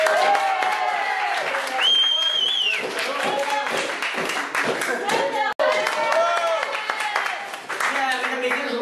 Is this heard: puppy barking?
no